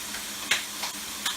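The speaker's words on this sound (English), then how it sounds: "We got some sausage already frying up there in the skillet." Sausage sizzling in a skillet on a home stove, a soft steady fry punctuated by a few brief louder spatters and crackles, close and without voices.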